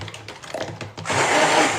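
After a second of clattering handling, a stick blender whirs loudly and steadily as it mixes white tallow soap batter.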